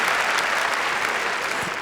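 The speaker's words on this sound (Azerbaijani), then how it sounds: "Bu alqışlar sizin içindir." A studio audience on an Azerbaijani television show applauds a singer, a steady, dense wash of clapping that stays loud and even for the whole stretch.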